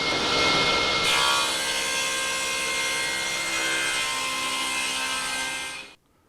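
A roughing saw grinds steadily through wood for about six seconds with a high whining tone, then the cut ends abruptly.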